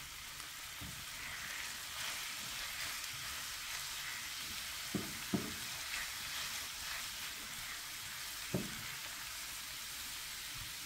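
Vermicelli in a frying pan sizzling softly after a few drops of water land on it, a continuous low crackle with a handful of sharper pops and taps.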